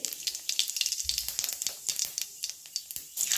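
Whole cumin seeds tempering in hot oil, a crackly, spitting sizzle of rapid irregular pops and snaps, close and fairly quiet, continuing throughout with no voices.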